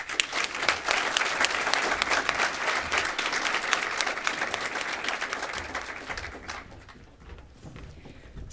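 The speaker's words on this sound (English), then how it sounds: "Please acknowledge their efforts with a round of applause." A large audience at a state FFA convention session applauds in a sustained, dense round of clapping that holds steady for several seconds, then thins and fades toward the end.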